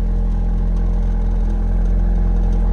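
A 2009 Honda Civic's engine runs close by with a loud, steady, droning idle, unbroken throughout and with no talking over it.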